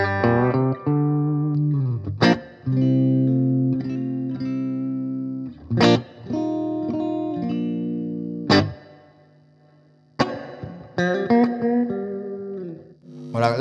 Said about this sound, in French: Il y a une petite réverb qui a le mérite d'exister